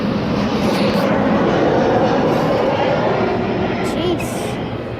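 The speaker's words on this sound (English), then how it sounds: "That's one loud plane." A loud airplane passes low overhead as it comes in to land, a broad steady roar filling the whole clip with some faint voices beneath it.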